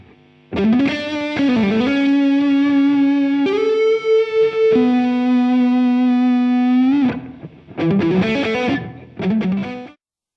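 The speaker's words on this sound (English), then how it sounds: "You can also add send effects such as reverb and delay." Sustained electric guitar notes and chords re-amped through a Laney IRT Studio, washed in reverb and echoing delay, playing a slow phrase that stops abruptly at the end.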